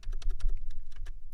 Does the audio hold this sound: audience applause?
no